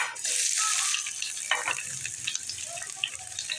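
Chopped onion frying in oil in a pan for a Konkan-style crab masala paste, a steady close hiss and sizzle with a few scraping stirs, no talking.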